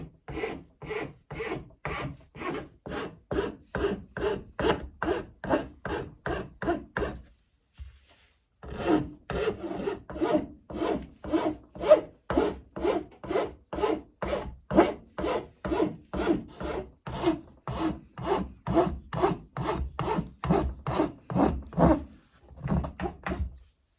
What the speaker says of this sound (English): I'm going to switch over to a file